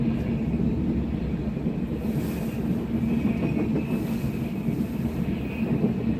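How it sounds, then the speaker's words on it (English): A freight train hauling Cargill tank cars rolls past in a steady, loud rumble with faint rhythmic wheel clatter and no pauses. "Got some Cargill tanks. It is a choo-choo."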